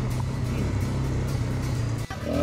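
An all-terrain vehicle engine running on rough Bohol roads near the Chocolate Hills, a steady, close motor drone with a brief dip and bump near the end.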